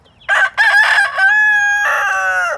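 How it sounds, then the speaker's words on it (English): A homestead rooster kept with laying hens crows loudly and close, one full cock-a-doodle-doo call with a long drawn-out ending, alone with no talking. "Beast, the rooster that has been in with our layers."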